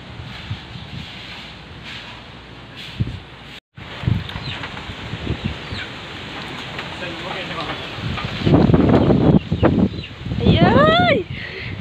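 Typhoon Ulysses (Signal No. 3, Luzon) drives strong gusting wind with rustling and pattering rain, loud and roaring throughout, while people talk and exclaim over it near the end.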